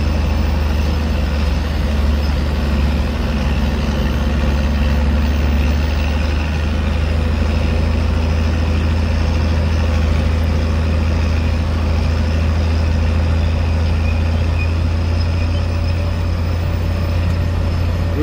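A big Ford truck engine drones steadily and loudly as it drives in bad weather, a constant heavy low rumble with no speech over it.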